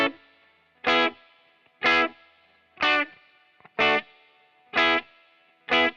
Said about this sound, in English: so now let's go to the bridge pickup. Bridge pickup again.